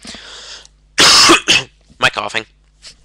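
A person coughs and clears the throat in a few short, close, harsh bursts, with brief pauses between them.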